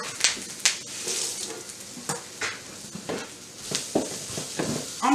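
Shrimp fried rice being stirred in a hot pan, with repeated scraping strokes over a steady sizzle, close and moderately loud, with no talking.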